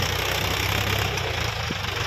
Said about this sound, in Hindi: कितना पावर लगा रहा है दोस्तों ये बैक गेयर में देखो छोटा ट्रैक्टर है